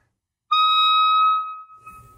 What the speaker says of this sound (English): a different fingering for the high F